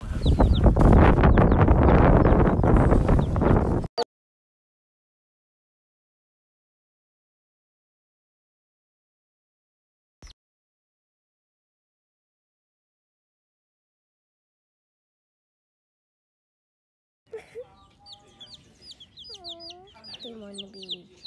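Pet backyard chickens cluck softly in short, irregular bursts near the end, following a loud rustling noise, a long silence and a single brief click.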